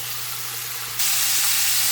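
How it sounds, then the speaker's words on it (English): Loud, steady sizzling of chicken legs deep frying in hot oil, close up, with the hiss growing brighter and stronger halfway through. "Just want to show you all the chicken as it's frying."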